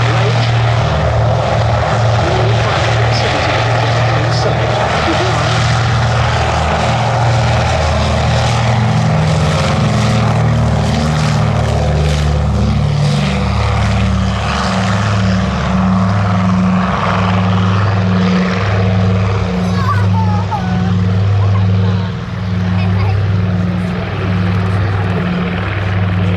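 A PBY Catalina propeller flying boat passing at the East Kirkby airshow, its piston engines droning loud and steady with a pulsing, beating propeller hum that holds throughout and rises slightly as it nears.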